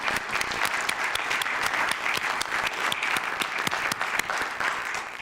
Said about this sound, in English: Now I will start the applause.